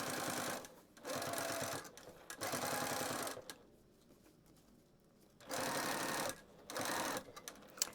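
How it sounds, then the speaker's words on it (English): A sewing machine stitches a fabric pouch seam in quick whirring bursts, pausing between runs, with stops and starts close by and no talking. "And then you can just continue sewing."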